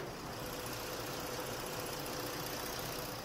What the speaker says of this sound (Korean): 네 이렇게 포드 익스플로러 차량의 엔진 사운드까지 담아드리기 위해서 본넷까지 개방을 해봤고요 바로 가까이서 엔진 사운드 담아드리도록 하겠습니다.